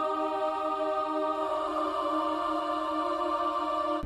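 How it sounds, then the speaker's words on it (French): A boys' choir sample sings a held, airy choral chord that swells partway through, smooth and continuous, with no percussion. "Des chœurs de jeunes garçons."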